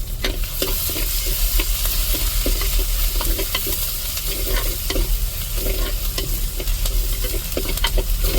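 Curry leaves crackle and sizzle loudly in hot tempering oil for a Sunday chicken curry, with a dense, continuous frying hiss and a quick, regular ticking of a spatula scraping the pan.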